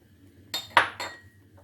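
A spoon stirs an oil, egg and yeast mixture in a bowl, giving three quick, close clinks against the bowl's side in a short burst, with no voices.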